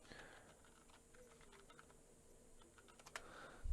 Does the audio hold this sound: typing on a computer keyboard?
yes